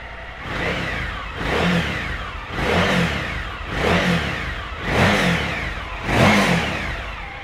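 A 2014 Suzuki V-Strom 1000 ABS motorcycle with 12,742 miles runs close and loud, its engine revved in six regular rising and falling pulses over a steady idle, with no speech.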